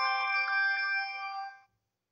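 A phone rings with a single bright, chiming electronic ringtone, clear and close, holding for about a second and a half before cutting off into silence.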